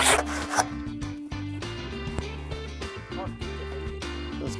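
A handsaw cuts a piece off a wooden plank, with rhythmic back-and-forth rasping strokes, close and fairly loud, over a steady tonal hum.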